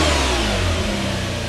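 A Ferrari 512M engine revs loudly and steadily up close, a dense sustained roar with deep harmonic layers that shift slightly partway through, no voices present.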